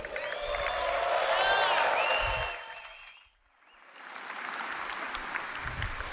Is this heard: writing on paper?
no